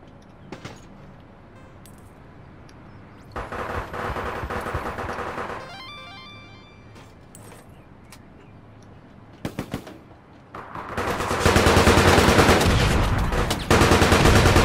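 Gunfire in the online shooter APB Reloaded: sustained bursts of automatic fire come in loud clusters with short single shots between them. Near the end a long, dense volley builds up, set against quieter stretches of game ambience.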